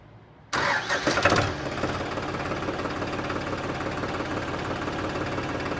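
A Digitrac PP43i tractor engine cranks briefly, catches with a loud burst, then settles into a steady low idle that continues to the end.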